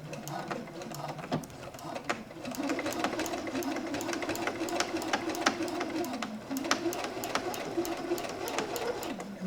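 A sewing machine run slowly and quietly while hemming curtains, a steady low mechanical hum with a fast even stitching patter, starting after a brief pause and continuing to the end.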